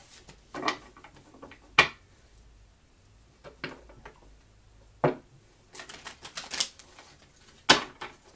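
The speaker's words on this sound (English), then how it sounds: "I'll do a couple more shuffles" Crisp, papery riffling bursts of tarot cards being shuffled repeat at irregular intervals, close by, tapped together, with quiet pauses between.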